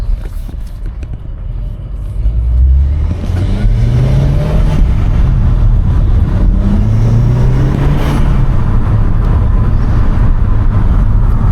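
A Vauxhall Corsa VXR accelerates hard, its engine roaring up through the revs in rising sweeps, loud and close with a heavy low rumble and no talking.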